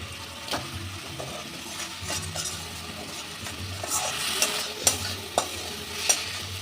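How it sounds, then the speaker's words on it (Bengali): A boal fish head fries in a pan with a little water while a metal spatula stirs and breaks it up. A steady low sizzle runs under sharp scrapes and clinks that grow louder toward the end. "দিয়ে মাছের মাথাটাকে ভালো করে কষে নেব"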